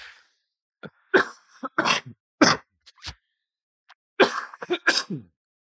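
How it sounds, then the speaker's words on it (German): A coughing fit comes in harsh, ragged bursts, several close coughs and throat-clearing hacks separated by short silences, loud and near. "Kriegst einen Hustanfall."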